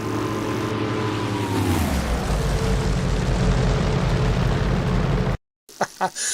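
A loud, steady propeller-plane engine in the DCS flight simulator game drones, its pitch sliding down partway through before cutting off abruptly, followed by a few short taps.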